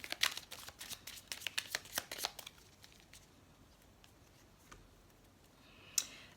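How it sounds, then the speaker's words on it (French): A tarot card deck cut and shuffled close by: a quick run of crisp riffling snaps and card clicks for the first couple of seconds, then quiet with a few faint taps. "je vais laisser ces cartes et on va couper le jeu"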